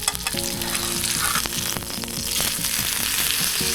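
Fish sizzles and crackles loudly in hot oil in a pan, a dense continuous frying hiss with occasional utensil knocks throughout.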